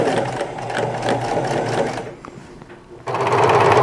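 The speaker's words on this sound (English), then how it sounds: "And now I'm going to just run a top stitch around the collar." A sewing machine runs a top stitch around a T-shirt collar, a close, steady mechanical whir that pauses briefly near the end and then resumes at full volume.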